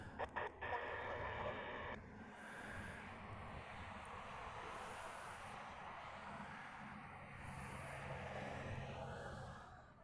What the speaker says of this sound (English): This is that KC-135 I was telling you about.